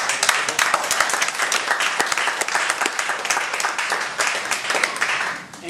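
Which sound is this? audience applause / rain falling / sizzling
audience applause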